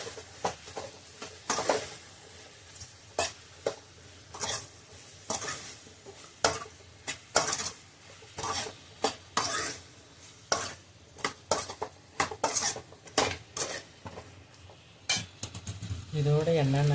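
Brinjal (eggplant) stir-fried in a pan gives repeated scraping stirs and clattering spatula knocks in an irregular rhythm over a faint sizzle, with someone speaking in Tamil between strokes.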